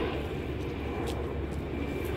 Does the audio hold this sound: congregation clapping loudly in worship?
no